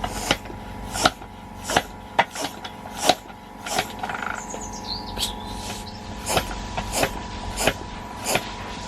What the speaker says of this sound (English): we can pump it up using the track stand pump